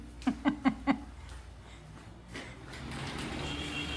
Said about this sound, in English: can you get the door for me